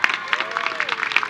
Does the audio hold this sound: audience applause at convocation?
yes